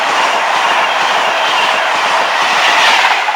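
A fast InterCity train rushes through Newark North Gate station, a loud, steady roar of wheels and air with faint clickety-clack, sustained throughout with no voices.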